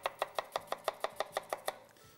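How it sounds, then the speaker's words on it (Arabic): A knife finely chops onion on a cutting board with about ten quick, evenly spaced strikes, close and crisp, and no voices. "هيك كمان البصله مفرمه فرما ناعما دائما السكين بيلعب دوره"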